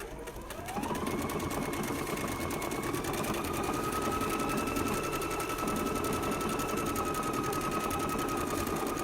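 A sewing machine whirs steadily at high speed while stitching a decorative flower stitch in circles, its rapid needle rhythm and rising motor whine starting within the first second and running continuously, loud and close.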